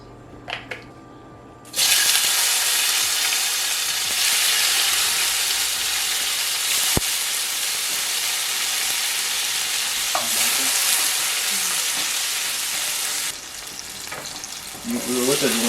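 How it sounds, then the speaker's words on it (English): Shrimp and vegetables stir-frying in hot oil, a loud, steady, close sizzle that begins suddenly after a few light kitchen knocks and holds almost unbroken, easing a little near the end. "so that way I can use the rest to do the stir fry"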